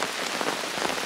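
Sudden heavy rain pouring down at a mountain campsite, a thick, uniform hiss of drops hitting surfaces nearby, loud and continuous for a brief moment.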